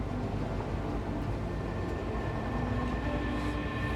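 A freight train in Satisfactory labors up a steep hill, its steady low rumble and rail drone continuous and unbroken, with no voices over it.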